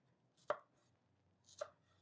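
Knife slicing garlic cloves thin on a cutting board for a baked feta dip: two crisp, separate chops about a second apart, quiet and close, with no talk.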